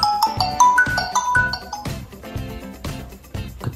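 A cheap Android phone's small speaker plays a ringtone, a repeating tinkly chime melody of bright notes in a steady rhythm, thin and close.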